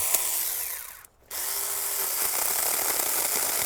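Mini chainsaw with a small chain cutting through a wood limb, a steady loud buzzing whine that drops out briefly near the start, then resumes and runs continuously to the end.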